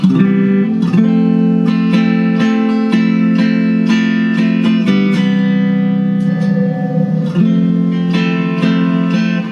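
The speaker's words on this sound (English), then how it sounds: "Maybe a little more reverb." Electric guitar playing sustained chords and picked notes, washed in reverb so each note rings out and blends into the next.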